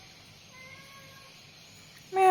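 A faint, drawn-out meow from a cat sounds early, then a louder, sharper meow bursts out close at the very end.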